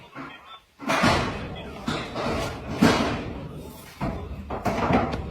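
A storage unit door is pulled and closed with a series of heavy, rattling thumps and slams, several loud impacts spread over a few seconds.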